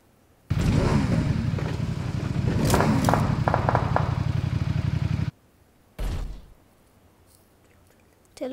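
A vehicle in PUBG Mobile drives with a loud, steady engine drone and rattling clatter for about five seconds, then cuts out; a brief second burst of engine noise follows before near silence.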